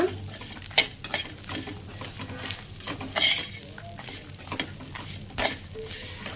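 Spoon stirring and scraping through chutney in a metal pan, with a steady run of close clinks and soft scrapes, faint frying hiss beneath, and no voices.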